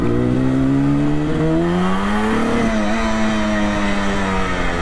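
Engine of a 1973 Yamaha RD 250 motorcycle pulling hard through the gears, pitch rising in smooth sweeps with a brief dip at a shift, close and loud with no talking.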